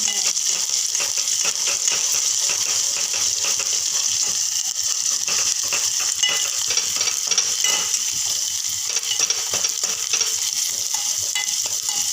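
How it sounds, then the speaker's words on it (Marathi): Garlic, cumin and coconut paste sauté in a pan with a loud, continuous hiss and crackle, and light scraping stirs run through the whole stretch. No one speaks. "लसूण जिरं व खोबरं छान परतल्यानंतर"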